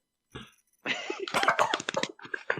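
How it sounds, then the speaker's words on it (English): A single sharp cough bursts out, followed after a short pause by someone talking close to the microphone in a casual podcast setting. "Coughs."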